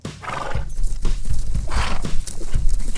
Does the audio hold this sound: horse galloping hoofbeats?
yes